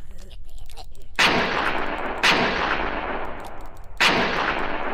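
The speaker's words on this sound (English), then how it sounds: "we're just starting to shoot them now when we see the eyes" Gunfire in a shooter video game, three loud separate bursts, each blast fading slowly into a long rumbling tail.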